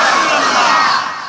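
Large religious gathering with a crowd roaring a takbir chant in unison, loud and close, a single massed shout that swells and then tapers off.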